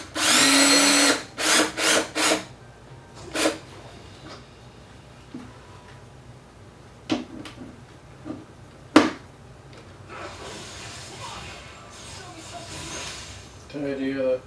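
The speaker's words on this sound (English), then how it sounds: "lift it up underneath, and I'll put a few screws into the bottom. Use 1 1/4 inch screw." Power drill driving screws into the underside of a wooden gaming table: a few short whirring bursts close together, then sparse single bursts and tool clatter, with someone talking quietly between them.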